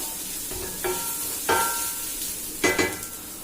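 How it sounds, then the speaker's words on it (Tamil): Dried fish thokku being stirred with chili powder in a pan, giving a few scraping spoon strokes over a soft steady sizzle, with no talk. "மிளகாத்தூள் சேர்த்தாச்சு. அதை கொஞ்சம் ஒரு 5 நிமிஷம் கிண்டி விட்டுட்டு"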